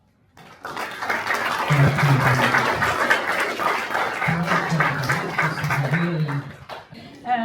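An audience at a youth debate tournament bursts into applause after the first debate, loud steady clapping that swells and lasts several seconds while a voice speaks over it.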